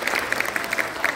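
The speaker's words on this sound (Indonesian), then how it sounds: "Tepuk tangan buat teman-teman semua." An audience breaks into brief, soft applause, a quick scatter of claps heard from a slight distance and fading after about a second.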